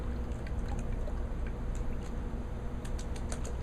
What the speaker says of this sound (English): You can use your hands to make some of the different sounds and effects by playing with the water,